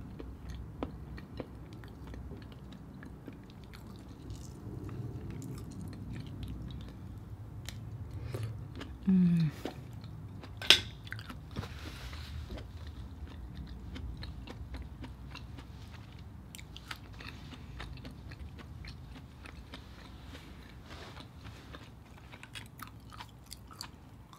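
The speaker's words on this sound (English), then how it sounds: "The mussel is a little bit chewy" Mussels served with potato and eggs in butter sauce are chewed up close, giving soft, steady mouth sounds across the stretch with one brief, sharper bite partway through.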